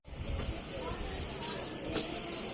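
A kitchen pressure cooker in a Pakistani village home releasing steam: a loud, steady, close hiss that starts abruptly and holds unbroken throughout, with faint background sounds beneath.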